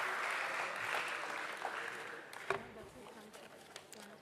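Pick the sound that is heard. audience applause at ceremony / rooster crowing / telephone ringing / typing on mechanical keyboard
audience applause at ceremony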